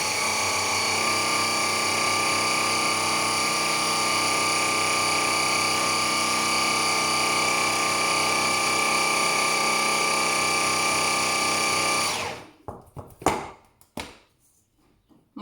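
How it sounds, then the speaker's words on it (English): A blender whirs steadily and loudly through a chocolate bar mixture for about twelve seconds, then cuts off abruptly, leaving a few clunks and knocks. "I'm just going to blend this for a few more seconds"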